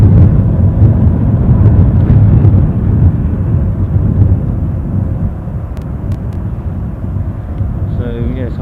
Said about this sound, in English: our second BizJet of the day